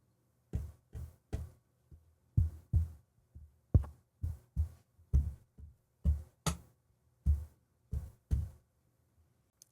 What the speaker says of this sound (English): And now I'm going to go ahead and try tapping on the arm.